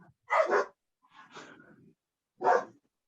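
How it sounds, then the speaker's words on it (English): A dog gives three short barks spaced about a second apart, fairly close and distinct against silence. "Someone has a ghost dog."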